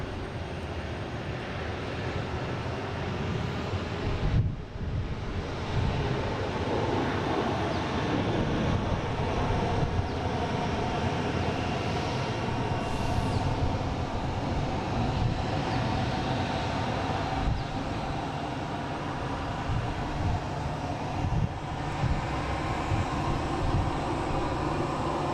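Alaska Airlines jet engines spool up at Boston Logan airport, a steady broad roar and whine holding at moderate distance for the whole stretch, with no talk over it.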